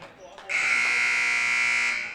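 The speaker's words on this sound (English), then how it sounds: "Buzzer sounds, and the teams will go to the locker room" A basketball arena buzzer ends the half of the West Hancock versus Eagle Grove game, one long, loud, steady blare that holds to the end after a brief quieter lead-in.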